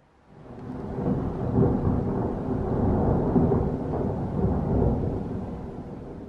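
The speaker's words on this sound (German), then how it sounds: "Das war gerade ein richtig krasser Blitz." Thunder from a lightning strike during a storm swells in and keeps rumbling for several seconds, a deep, rolling, fairly loud roar that fades only slightly toward the end.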